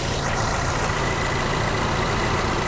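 A Cadillac's 2.0 liter engine runs steadily at idle, a constant close hum with exhaust note and no talking over it.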